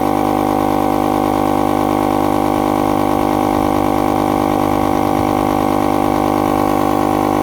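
An Outdoor Master Whale SUP electric pump runs steadily at high pressure, a loud continuous motor drone with fixed tonal hum and slight vibration, holding level throughout with no pauses and no voices.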